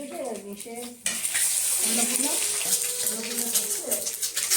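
Kitchen cooking sounds from a mother preparing food: a broad hiss of frying or running water and faint clatter, with a voice talking over it at the start.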